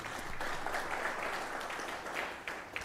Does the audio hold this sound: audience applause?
yes